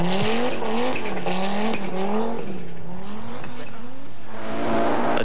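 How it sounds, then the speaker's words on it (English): A rally car on snow tires in a 1997 SCCA Maine winter forest rally, its engine revving hard and wavering in pitch as it slides on ice, loud and continuous, with a commentator's voice partly over it. "You can see he's trying to clip the corners, get some grip with those snow tires."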